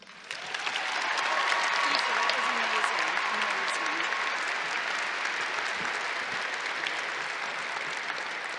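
Sustained applause from a large audience at a university commencement ceremony, loud and steady clapping that swells in the first second and continues evenly throughout, with scattered cheers mixed in.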